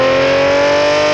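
Twin-turbo Lamborghini Gallardo engine revving hard toward redline, a loud, dense, sustained high-pitched howl with no pause or talking.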